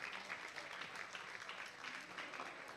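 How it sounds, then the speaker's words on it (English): A small meetup audience gives a round of applause at a startup pitch hangout, steady, faint and fairly distant clapping throughout a short moment. "A round of applause"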